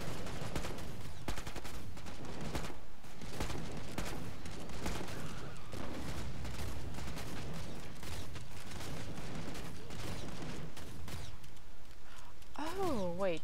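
Rapid bursts of gunfire from the video game Killing Floor 2 crackle densely and continuously at close range, mixed under overlapping talk, with a warbling electronic tone near the end.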